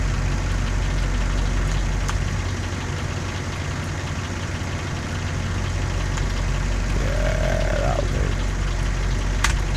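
A ship's engine idles in the sea simulation game Ships at Sea, a steady low rumbling drone that stays loud and constant throughout, with a brief rising tonal sweep near the end and no speech.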